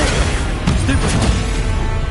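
A stunning spell fired in the wizarding video game Hogwarts Legacy, heard as a loud, rumbling magical blast with several quick pops and thuds layered through a continuous low roar.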